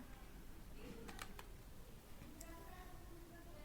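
A few faint computer keyboard keystrokes while entering an Excel formula, a quick cluster of soft clicks followed by a lone tap, muffled under steady background hiss.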